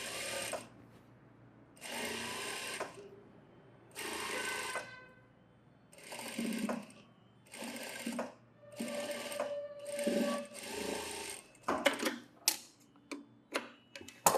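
Sewing machine stitching along a blouse hem edge on synthetic fabric, running in about eight short, steady whirring bursts separated by pauses, then a series of quick clicks and taps near the end, close and clear.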